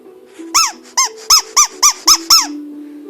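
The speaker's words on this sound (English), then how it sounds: "the squeaky part of the New Year's party horns" A New Year's party horn squeaker, held in the hand, gives seven short, loud, bright squeaks in quick succession. They sound close and alone over a faint low hum.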